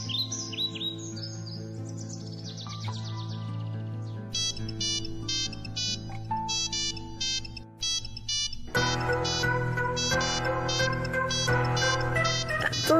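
A phone ringtone plays in a Bengali TV show, a repeating electronic chirping melody in short bursts, growing louder and denser partway through, with no talk over it.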